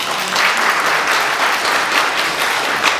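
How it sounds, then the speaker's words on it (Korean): Lecture attendees at a Korean financial investment forum clap to welcome the speaker, with a dense, loud round of applause that stays steady throughout. "박수 부탁합니다."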